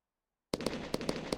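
A video game firework cake fires in a quick series of sharp bangs after a brief silence, about half a dozen shots in just under a second, loud and close.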